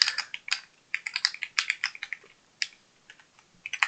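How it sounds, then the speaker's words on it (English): Fingers type on a computer keyboard with an irregular run of sharp, close clicks, bursts of fast keystrokes broken by short pauses, with no talking. "It's just a pain typing everything out like that."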